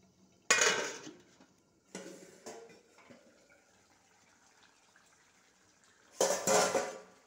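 A cooking pot being covered with its lid while a dish finished with homemade ghee and chilli cooks. Several loud metallic clanks and scrapes ring out, with the strongest at the start and near the end and quieter clatter in between, and no talking.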